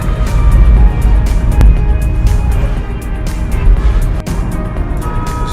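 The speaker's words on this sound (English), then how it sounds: "So there'll just be big lorries and buses flying out of this side, and what do? They just go and overtake." Heavy road traffic on a busy country road, with large lorries and buses rushing past and overtaking; a continuous loud, near rumble of engines and tyres swells and fades without a break, and no one talks.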